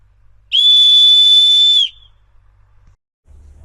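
A whistle dug up by a metal detectorist near an old church gives a single loud, steady, high-pitched blast lasting just over a second, clear and close against near silence.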